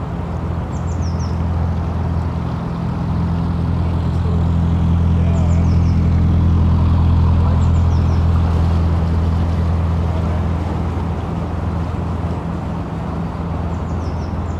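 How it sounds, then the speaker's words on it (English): Steady traffic rumble from the nearby M6 motorway beside the North Oxford Canal near Hawkesbury Junction, a continuous low drone at moderate loudness with no talk over it. "There's quite a lot of traffic noise around here. That's because the M6 motorway is not very far away on the right."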